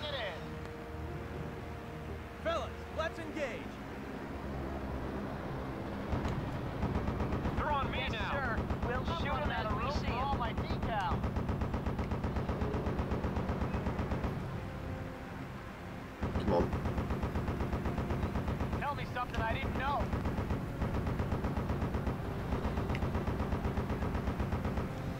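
Aircraft machine guns in the WWII flight game Blazing Angels rattle in long, steady bursts over a constant engine drone, while radio voices talk over the noise.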